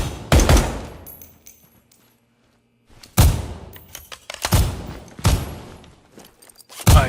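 Gunfire at red and black steel targets in the tactical shooter game Ground Branch, several sharp, loud bursts of shots with ringing decay, separated by short pauses and one longer silence.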